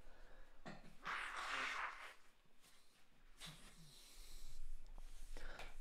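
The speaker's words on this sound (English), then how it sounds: "just had to blow my nose" A person blows their nose close to the microphone in two or three faint, breathy honks separated by short pauses in an otherwise quiet room.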